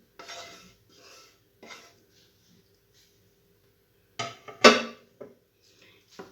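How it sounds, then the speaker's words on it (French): Meat sauce is spooned and scraped from a pan over potatoes and eggplant for moussaka: short clattering bursts of utensil on cookware separated by quiet gaps, with one louder scrape near the end. "on verse toute la viande"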